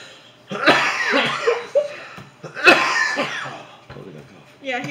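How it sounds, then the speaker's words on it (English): A man coughs in two rough bursts with a pause between them, close and loud, followed by a short voiced sound at the end. "Totally got a cough."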